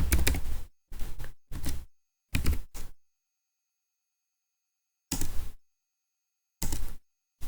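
Computer keyboard keys typed in short, fast bursts while entering configuration commands such as a shutdown command on a network device, each flurry of clicks separated by silent pauses.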